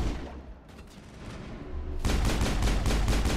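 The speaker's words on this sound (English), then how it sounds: "Let's just shoot it from back here." Bursts of gunfire in the sci-fi video game Mass Effect 1, a quieter stretch of distant shots giving way to a loud, dense volley of rapid repeated firing.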